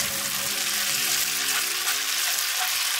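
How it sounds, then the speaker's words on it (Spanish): Spaghetti carbonara being stirred and tossed in a pan, a steady close sizzle and wet mixing noise running evenly throughout. "y lo vamos mezclando."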